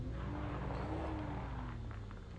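A car in the Siren Head horror game pulls away, its engine droning steadily with a faint rising tone, loud and continuous, with no one talking.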